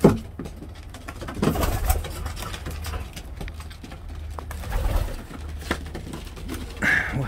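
Pigeons in a small breeding loft give soft, repeated throaty coos, close by and fairly quiet, with a few scuffling movements between calls.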